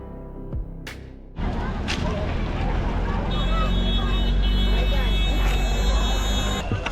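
A shared jeep climbing a winding mountain road up to Machi, its engine starting after a moment and then droning loudly and steadily, with rumbling road and wind noise filling the cabin.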